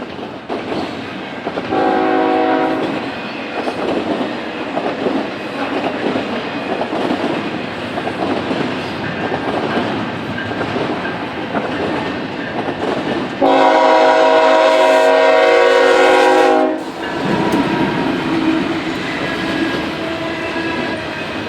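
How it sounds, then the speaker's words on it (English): A CSX freight led by a GE C800 locomotive running on the Barr Subdivision in northwest Indiana: a steady loud rumble of passing cars with a long, blaring horn blast partway through, alone and with no talking. "One more C800 is approaching Pine, this time running the CSX bar sub to East Curtis"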